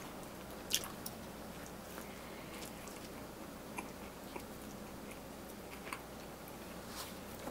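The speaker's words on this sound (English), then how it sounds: "I can't even chew this." Close, wet chewing of a cheesesteak with tough, undercooked peppers: soft squishy bites and a few sharper crunchy clicks at irregular intervals over a steady low room hum, with no talking.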